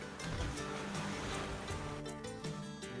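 Continuous broadband rush of river water and waves lapping from the survival game The Flame In The Flood, steady and fairly loud with no speech.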